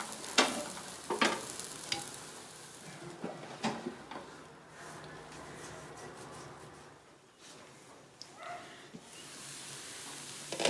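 Brinjal fry coated in masala is stirred in a pan: faint, intermittent spoon scrapes over a soft sizzle, with quieter pauses between strokes.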